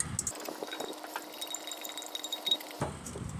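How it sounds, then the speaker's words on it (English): A hand whisk beats pumpkin pie filling in a bowl, producing a fast, continuous wet clatter and swish that runs for a few seconds, close and moderately loud, then stops abruptly. "Whisk these up."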